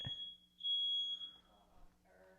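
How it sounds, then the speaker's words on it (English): A smoke detector fire alarm going off nearby: a shrill, steady high-pitched tone that sounds in two bursts, then cuts out into faint room noise. "Roommates setting off the fire alarms, smoke detectors."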